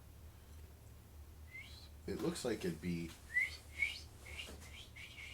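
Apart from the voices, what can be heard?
little baby bird chirping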